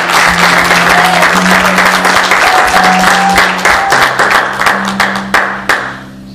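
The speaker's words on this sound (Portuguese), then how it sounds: "Se você crê assim, aplauda o Senhor Jesus." A church congregation applauds steadily during a sermon, dense clapping throughout with a low sustained tone underneath, tapering off near the end.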